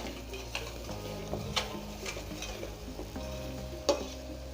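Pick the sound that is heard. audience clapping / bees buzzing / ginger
ginger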